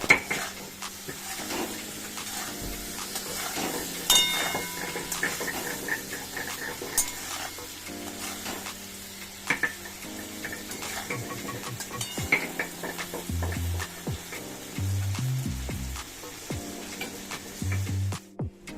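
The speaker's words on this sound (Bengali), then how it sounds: "এখন টমেটো আর কাঁচা লঙ্কা কুচি দিয়ে আবারও ভালো করে মিশিয়ে নিচ্ছি" Chopped tomatoes and green chili are stirred into a pan for vegetarian ghugni, with repeated metal spatula scrapes and clinks against the pan over a faint sizzle, close and irregular.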